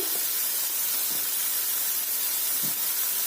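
Vegetables sauté with oregano in a hot pan, giving a steady, close, loud sizzling hiss with a few faint scrapes of stirring under it.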